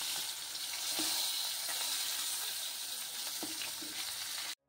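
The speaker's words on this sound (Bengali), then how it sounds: "ভেটকি মাছটা ভালোভাবে ধুয়ে ধুয়ে ভাজা করে নিচ্ছি।" Bhetki fish frying in a pan gives a continuous, fairly quiet sizzle with a few faint clicks, before stopping abruptly.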